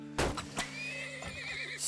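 Horse in the video game Turmoil gives a short, clear whinny with a rising and falling squeal, alongside a couple of hoof clops, set over a faint steady game backdrop.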